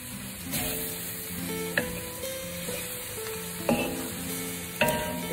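Chicken lo mein noodles being stir-fried, a continuous close sizzle broken by several sharp scrapes and clacks of a utensil tossing the noodles in the hot pan, with no talking.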